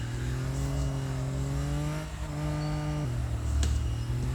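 A car engine revs and shifts in a mobile drift racing game, its steady droning tone climbing and dropping through gear changes at a moderate, close level.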